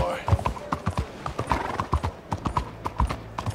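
A horse in Red Dead Redemption 2 gallops with rapid, rhythmic hoof clip-clops, close and clear, with someone talking over it.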